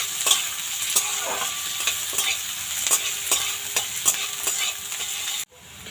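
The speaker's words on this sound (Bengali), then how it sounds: "পেঁয়াজটা আমি লাল করে ভেজে নেব।" Onions frying in a pan until reddish-brown, a loud continuous sizzle with rhythmic spoon-scraping strokes about once a second, close up, ending abruptly near the end.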